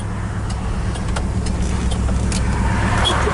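A 1972 Ford F100 XLT short-bed pickup rumbles steadily through a U-turn on a test drive, its engine and road noise a constant close drone with a few faint clicks and rattles on top.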